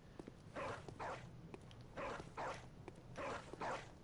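A dog enemy in Bloodborne barks and snarls in short bursts, about four loud harsh outbursts spaced roughly half a second to a second apart, close by over a low rumbling game backdrop.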